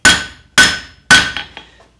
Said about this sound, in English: Now I'm only taking 3 or 4 blows before I rotate.